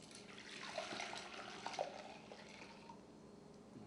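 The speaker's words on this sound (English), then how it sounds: "So I'm going to take that potato water, dump it into my bowl." Starchy potato cooking water being poured into a bowl while making a sourdough starter, a soft continuous splashing pour heard alone at low level.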